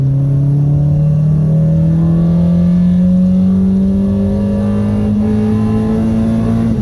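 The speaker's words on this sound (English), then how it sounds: "Wide open throttle." A car engine revs up steadily at full throttle, its droning pitch climbing smoothly as it accelerates, loud and close.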